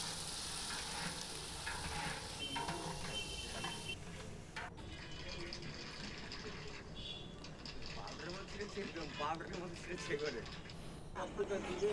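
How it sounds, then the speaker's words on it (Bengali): Dal lentils frying lightly in a pan for khichuri, a steady soft sizzle with occasional stirring scrapes, continuous and fairly quiet throughout. "ডালটাকে একটু হালকা করে ভেজে নেব।"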